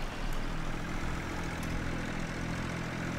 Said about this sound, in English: And then we can take the tractor back.